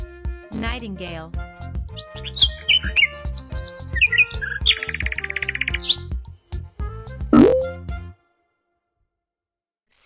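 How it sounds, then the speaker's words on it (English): Nightingale song: a run of bright chirps, trills and whistled phrases, close and fairly loud, ending in a few seconds of silence. "Nightingale."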